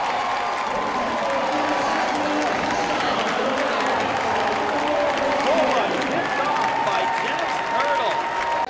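A college football crowd at a GLIAC game between Lake Erie and Northern Michigan cheers and applauds steadily after a pick six, a dense, sustained roar of clapping and shouting with a commentator talking over it.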